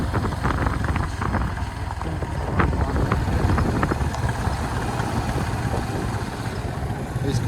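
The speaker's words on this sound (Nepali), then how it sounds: "स्कुटर अहिले हेन्सरले चलाउनु भएको छ" Scooter engine droning steadily on a rough uphill-downhill mountain trail toward Mardi Himal in Nepal, mixed with wind buffeting and scattered knocks and rattles, no clear talk.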